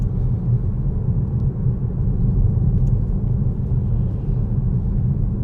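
Steady low rumble of a car's engine and tyres while it drives through a large roundabout, a dense, even drone heard from inside with no talking.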